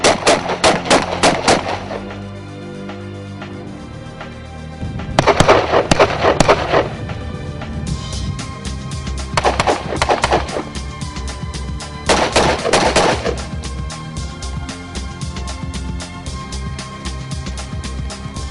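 Gunfire from a special forces shooting drill in 2009 rings out in loud, rapid bursts of shots separated by quieter gaps, with some sparser single reports between the bursts and no talk.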